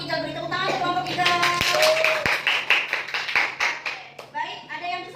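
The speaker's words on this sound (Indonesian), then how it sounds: "Beri tepuk tangan untuk kelompok 3." Elementary classroom of sixth graders clapping for a student group, a burst of hand claps mixed with children's chatter and talking throughout.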